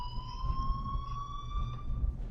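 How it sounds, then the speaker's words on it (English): A steady electronic alarm rings inside a school in the Life is Strange video game, a continuous high tone with harmonics sounding without pause over a low rumbling background. "please turn off that alarm since that's your job"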